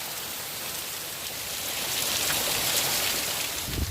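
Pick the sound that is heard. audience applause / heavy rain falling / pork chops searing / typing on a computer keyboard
heavy rain falling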